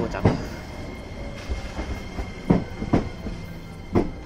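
A four-car limited express train on the JR Kakogawa Line pulls into a station, its wheels clacking in loud, evenly spaced bursts over low rumble, close by.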